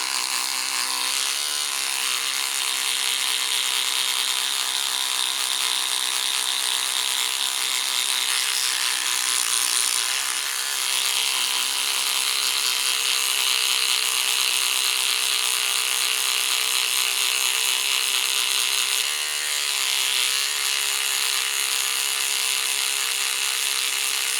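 A toothbrush scrubs polish across a die-cast Corgi Ford Thames Airborne caravan model, a steady rasping brush sound that continues without a break for about twenty-four seconds, close and fairly loud.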